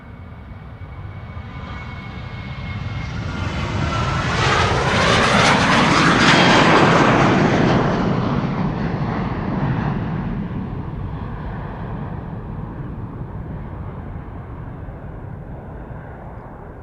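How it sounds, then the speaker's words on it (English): A 24-year-old KLM Boeing 737-800 airliner takes off from Amsterdam Schiphol, its jet engines a broad roar that swells to a loud peak as it passes and then fades slowly into the distance. "This is KLM flight 1137 to Dublin, Ireland. It is a 737-800"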